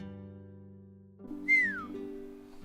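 A single low whistle rises and then slides downward, sounding once in a quiet indoor setting over a faint background hum.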